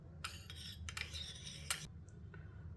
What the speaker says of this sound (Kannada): ಇದನ್ನು ಈಗ ಕೊಬ್ಬರಿ ಎಣ್ಣೆ ಮತ್ತು ಈ ಲಿಂಬೆ ರಸ ಇದೆಯಲ್ಲ, ಇದೆರಡನ್ನೂ ಅಂದರೆ ಮಿಕ್ಸ್ ಮಾಡಿಕೊಳ್ಳಿ